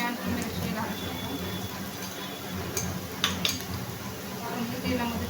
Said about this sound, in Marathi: आपण हे तेलामध्ये चांगलं मिक्स करू।